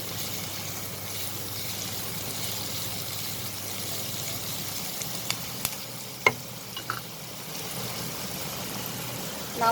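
Carrot and capsicum stirred in a frying pan, a steady sizzle with soft scraping, plus a few louder utensil knocks near the end.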